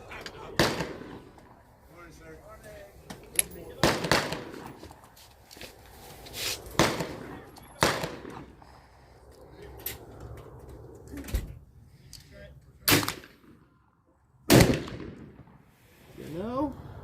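Sharp, loud single shots from an AEA Zeus 16 inch big-bore air rifle, spaced several seconds apart, with a person talking between them outdoors.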